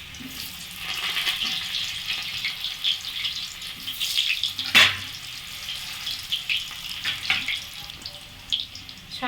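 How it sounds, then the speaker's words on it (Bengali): Potato pieces going into hot oil in a pan, a steady, fairly soft crackling hiss with scattered pops and one sharper burst near the middle, close by with no talking. "এখানে তেল গরম হয়ে গেছে এবার আলুগুলোকে এতে দিয়ে দেবো"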